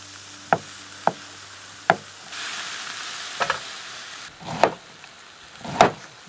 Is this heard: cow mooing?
no